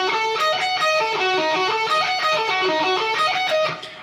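An electric guitar plays a diminished arpeggio with string skipping, a quick run of clean, separate notes in a steady rising and falling pattern, close and moderately loud.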